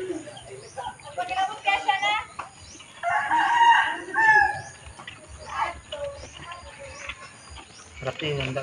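A rooster crows outdoors at a moderate distance, several drawn-out calls heard against background chatter from people talking nearby.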